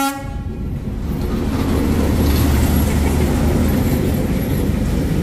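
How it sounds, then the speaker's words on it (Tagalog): Train rolling slowly through Hanoi's narrow Train Street in Vietnam, a loud close rumble of wheels and carriages with a horn blast at the start, continuous and heavy throughout, no voices. "Ito na yung train."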